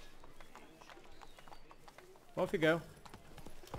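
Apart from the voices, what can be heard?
horse Roach's hooves clip-clopping, from The Witcher 3 video game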